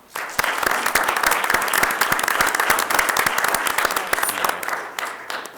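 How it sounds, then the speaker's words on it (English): Applause from the audience at a city council meeting, loud dense clapping close by that fills the whole stretch without a break. "So we applaud her again for her efforts."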